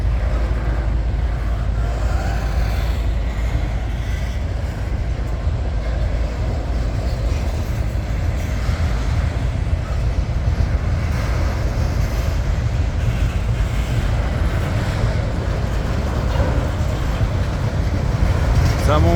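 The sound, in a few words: Norfolk Southern locomotive 8171 train moving past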